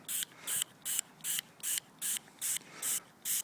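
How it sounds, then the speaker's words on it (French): Filter oil sprayed onto a DS3 air filter cartridge in nine short, even hissing bursts at a quick regular rhythm with brief gaps between, close up and with no talking. "je mets pas mal d'huile sur le filtre"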